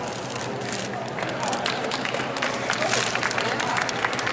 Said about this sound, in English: let's give everybody a big round of applause when they come out